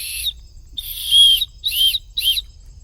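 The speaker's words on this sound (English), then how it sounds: "I also have a whistle that's actually really loud" A loud, shrill survival whistle from a kit pouch, blown in four sharp blasts, one short, one long, then two shorter ones, close and alone over a low hum.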